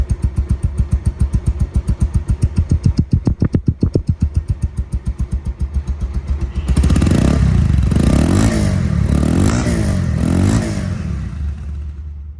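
A second-hand Bajaj Pulsar DD ABS motorcycle idles at the silencer with a loud, steady, rapid thumping, then the exhaust turns rougher and denser as the engine picks up for several seconds.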